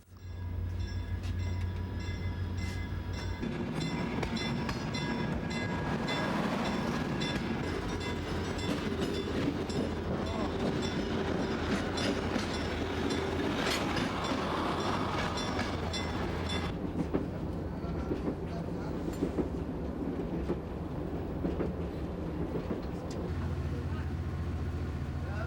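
A night train runs on rails in Egypt, heading south, with a sustained rolling rumble and rhythmic clickety-clack over about twenty-five seconds, shifting in tone as it moves, with brief horn-like tones and a voice talking over part of it.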